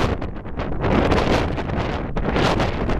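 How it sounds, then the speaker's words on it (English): Strong wind buffets the microphone at an airport, a loud rushing roar in heavy gusts that swell and dip throughout. "including this godforsaken wind"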